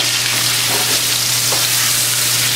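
Filet of beef sears in a hot pan, a loud continuous sizzle close by with a steady low hum underneath.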